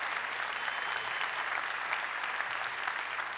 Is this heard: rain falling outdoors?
no